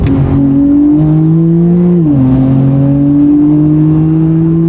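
A Porsche 911 Turbo S of the 991 generation, tuned to about 630 hp with a custom RCP turbo-back exhaust and open flaps in Sport Plus, drones loud and close at steady revs, its pitch dipping once before climbing slightly again.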